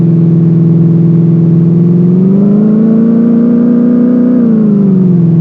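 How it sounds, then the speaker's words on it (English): Engine of a car in a simple racing video game, a loud, steady synthetic hum that rises in pitch as it accelerates, holds, then drops back down. "See, now the car will accelerate."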